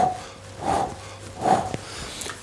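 A few close sniffs through the nose at a fermenting turbo yeast wash, spaced roughly evenly, with faint background hum.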